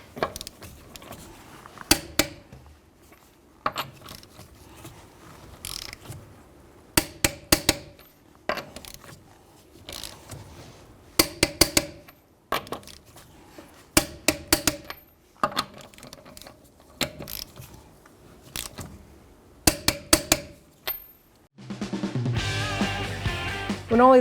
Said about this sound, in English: we're going to torque our lug nuts to 94 foot-pounds